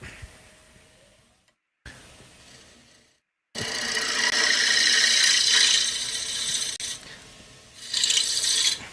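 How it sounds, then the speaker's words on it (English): Wood spinning on a lathe while a cutting tool shaves it, a steady rasping scrape that stops briefly, then returns louder and sustained, without talk. "There's a cut, move out. You see the shavings coming off there?"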